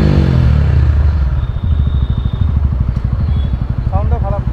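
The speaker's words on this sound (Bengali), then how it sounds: "এটা হচ্ছে এক্সস্ট সাউন্ড, হ্যাঁ এক্সস্ট নোট হচ্ছে এটা সাউন্ড।" A TVS Ronin 225 motorcycle idles close by, its exhaust giving a steady low, even thump with light mechanical clatter, while people talk over it.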